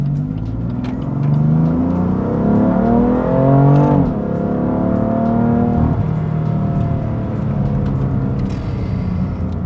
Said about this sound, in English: you hear the exhaust a lot